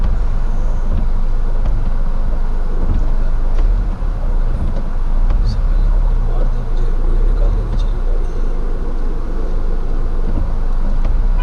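Steady stream of cars arriving at a busy Costco gas station in Canada, a continuous close traffic rumble with wind noise on the microphone and someone talking over it.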